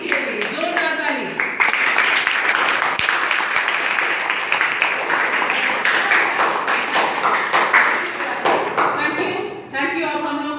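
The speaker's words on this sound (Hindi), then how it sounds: "आंटी के लिए जोरदार ताली।" Steady applause from an audience at a Rajendra Prasad birth anniversary celebration, many hands clapping continuously for several seconds, loud and close, fading slightly near the end.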